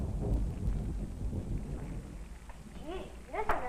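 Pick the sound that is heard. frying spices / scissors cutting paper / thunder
thunder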